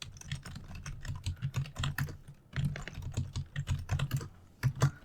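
Computer keyboard keys clatter in quick bursts as someone writes a simple Go program, with a short pause midway before the rapid close tapping resumes.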